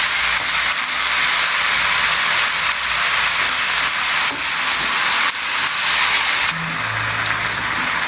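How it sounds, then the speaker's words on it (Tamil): Raw banana being sautéed in a pan over a medium flame, a steady broadband sizzle and hiss running throughout with faint scraping of stirring underneath, no talking. "நல்லா அடியிலேருந்து வதக்கி விட்டுக்கோங்க."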